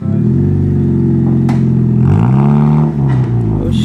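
A Subaru STI with a newly fitted aftermarket exhaust revs up loudly nearby, the engine climbing and falling through a couple of throttle blips with a deep, burbling exhaust note.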